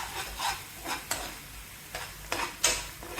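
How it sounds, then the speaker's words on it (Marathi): Onion puree for onion chutney being stirred in a pan with chili powder, garam masala and coriander powder: a close, soft sizzle broken by about five scraping strokes of a spoon, some louder than others, with no speech. "आणि हे छान प्रकारे मिक्स करून घेणार आहोत."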